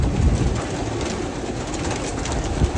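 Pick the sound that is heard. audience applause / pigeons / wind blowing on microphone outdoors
pigeons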